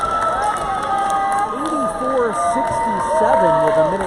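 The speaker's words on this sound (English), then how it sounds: "The crowd's really liking it." A men's college basketball crowd cheering in a gym late in a game, a steady roar of voices and shouts with a commentator talking over it.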